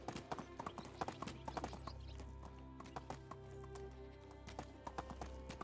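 Horse hooves clip-clopping at a steady trotting rhythm in the video game Medieval Dynasty, clear, evenly spaced hoof strikes over a low ambient hum, fairly faint overall.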